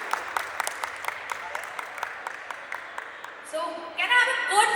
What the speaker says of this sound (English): So can I have a good round of applause for him?